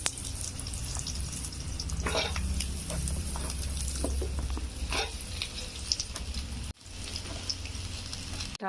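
Mango pieces with cumin and fennel seeds frying in a pan, giving a steady close crackling sizzle with scattered pops that runs throughout, briefly cut short near the end.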